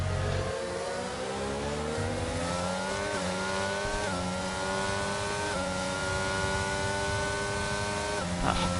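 Racing car in a racing video game roaring down a straight, a loud continuous engine whine rising through the gears with brief shift dips, steady and close throughout.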